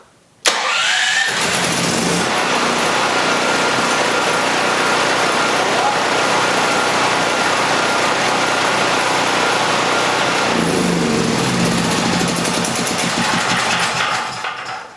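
A Firman portable generator is pulled into life with choke on, catching abruptly and running at a loud, steady drone for about ten seconds before the tone shifts and it winds down near the end.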